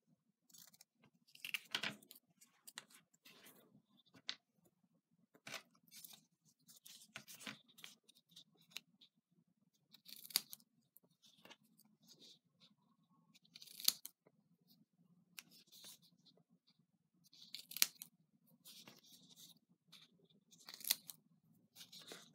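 Scissors snip through 3D foam squares for a slimline ice cream card, giving quiet, close, irregular cuts and rustles spread across the clip.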